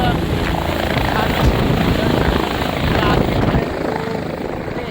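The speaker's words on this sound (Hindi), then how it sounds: "हेलीकॉप्टर एक के बाद एक राउंड काटते हुए नजर आते हैं केदारनाथ धाम में" Helicopters circle one after another over the crowded helipad at Kedarnath Dham, a loud, close, steady rotor thrum and engine roar filling the whole stretch.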